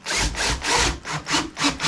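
A power drill bores a hole through lumber for a storage rack, the bit grinding loudly in several close, uneven bursts that swell and ease as the wood gives, with no talking.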